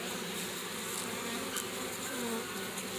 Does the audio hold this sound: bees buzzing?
yes